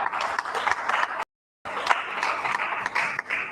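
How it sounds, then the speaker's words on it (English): A round of applause from an audience at a property investment seminar, with steady clapping that pauses briefly for a moment of silence and then resumes at similar strength. "Please, can you give her a round of applause?"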